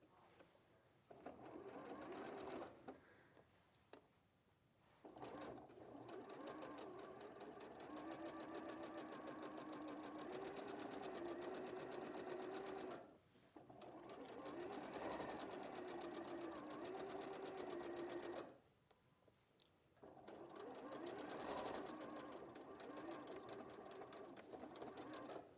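A sewing machine stitching through viscose fabric with an unusual presser foot, its steady motor whir and rapid needle clatter running in three long bursts separated by brief pauses.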